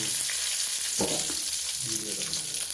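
Cardamom and cloves frying in hot oil for chicken biryani, a loud, close, continuous sizzle with a few stirring scrapes of a spoon.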